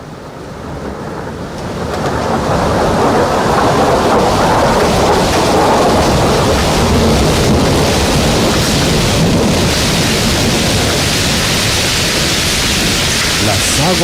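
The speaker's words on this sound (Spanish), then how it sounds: "Y comenzó a llover fuertemente." Heavy rain pours loudly and continuously, with a deep rumbling wash like a thunderstorm that swells in after a quieter opening and holds at full strength, no talking over it.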